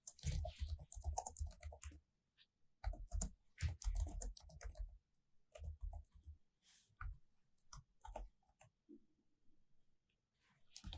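Code being typed on a computer keyboard in rapid, uneven bursts of close, crisp key clicks, with short pauses between runs and no talking.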